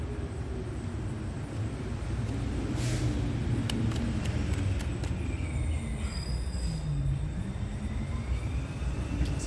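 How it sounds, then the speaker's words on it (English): Heavy vehicle rolling past outdoors with a continuous loud rumble, squealing wheels and brief sharp clanks over about ten seconds, with no talking. "I was waiting for the truck to go by"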